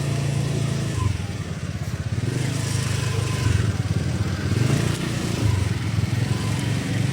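Motorcycle ridden around a nearby area, its engine droning steadily and close, with small rises and falls in revs and constant wind rush throughout.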